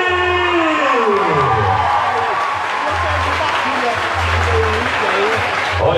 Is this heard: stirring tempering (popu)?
no